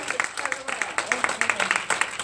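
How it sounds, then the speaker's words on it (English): A crowd claps together in a brisk, steady burst of applause, fairly close and lively, with voices mixed in throughout. "Then we're going to clap and get some energy in the room."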